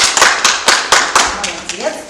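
Children in a ballroom dance class clap in a short round of applause, distinct sharp claps in an uneven rhythm, close and loud, with an adult voice speaking over them.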